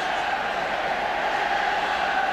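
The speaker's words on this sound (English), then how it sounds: "the crowd, as you can probably hear, trying to raise England now to look for that 3rd and maybe 4th goal" Spectators at a 1982 World Cup qualifying football match between England and Switzerland make a dense, steady stadium roar urging England forward, heard on its own.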